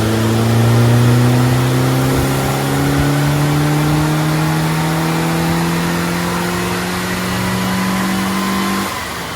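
A Morris Minor engine revs hard and holds at full power during a tuning run, its pitch climbing steadily for several seconds before dropping off at the end.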